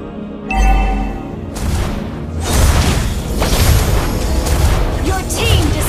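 A turret in Mobile Legends is destroyed with a booming blast amid busy battle effects and layered in-game announcer voices, the rumble swelling loud near the start and continuing through clashing skill sounds.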